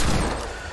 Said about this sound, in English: Did you just shoot that man with...